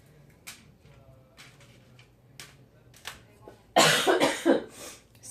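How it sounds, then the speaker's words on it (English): A quiet room with faint ticking and small knocks, then a loud burst of several harsh coughs near the end, close to the microphone. "I may still have a little coughing fit"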